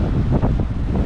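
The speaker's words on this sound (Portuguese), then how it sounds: "Ventania muito forte." A very strong coastal wind roars and buffets the microphone during a fishing trip on a jangada raft, a loud, continuous gusting rush with no voices.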